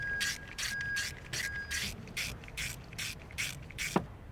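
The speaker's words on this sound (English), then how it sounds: "Pop the bolts back in for the coil pack. Quickly tighten those back down." A ratchet clicks in quick regular bursts while coil pack bolts are tightened on an Abarth 500 engine, with a brief metallic tap at the end.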